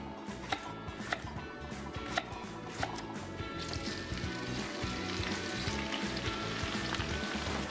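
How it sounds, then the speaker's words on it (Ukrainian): Sliced leeks sizzle steadily in olive oil in a frying pan, a dense close crackle with a few light clicks or ticks scattered through. "наливаємо трохи олії, оливкової, цибуля порей,"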